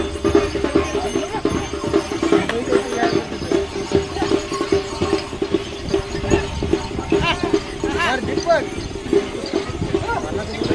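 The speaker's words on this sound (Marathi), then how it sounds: "दुसऱ्या गलीतले बैल आलेले आहेत" Bullocks in a Bail Pola festival procession at Salegaon, hooves clopping irregularly on the ground amid a busy crowd with people talking throughout.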